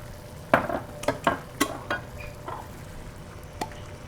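Fried rice with fish sauce and sesame oil sizzles in a hot pan, broken by several sharp scraping and tossing strokes of a utensil against the metal, spaced about half a second apart at close range.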